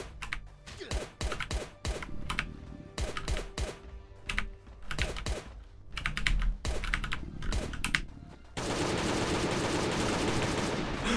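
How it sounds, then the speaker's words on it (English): Gunfire in the video game Last Day On Earth, aimed at a turret: bursts of sharp, rapid shots in clusters with brief gaps between them, ending in a dense, sustained rattle of fire. "I've never shot the turret from over here before."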